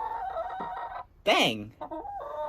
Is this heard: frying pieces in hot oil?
no